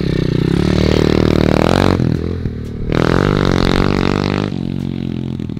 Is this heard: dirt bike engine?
yes